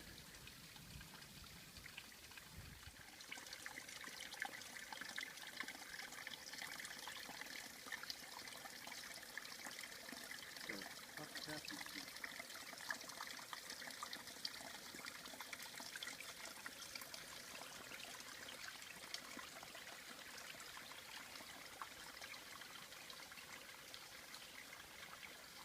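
A mountain stream on a hiking trail trickles and dribbles steadily, a soft continuous babble of running water heard alone at moderate distance.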